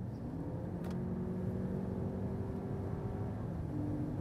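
A Lexus RX 500h F Sport accelerates on a German Autobahn at about 160 km/h. The steady engine drone is layered with road and wind roar from inside the cabin, held at an even, moderate level and fairly muffled.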